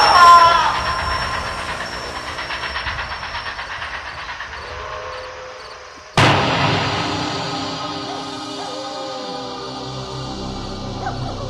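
Cartoon train approaching: a rhythmic rumbling clatter with a long whistle tone, then a sudden loud burst midway followed by sustained rolling noise and a falling tone, with no voices.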